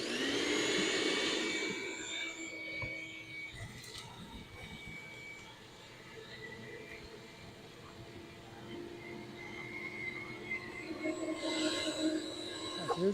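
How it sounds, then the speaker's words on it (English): A shop vac fitted with two extension wands sucks debris out of a French drain sump pit, a steady rushing roar with shifting whine and rattling that carries on throughout, fairly close and with no talk. "I'm going to use my shop vac with the 2 extensions"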